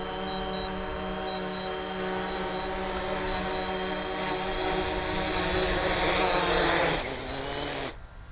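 A DJI Mavic, the original model, flies with a steady, loud propeller whine held throughout, rising slightly toward the end before cutting off sharply near the finish; no talking.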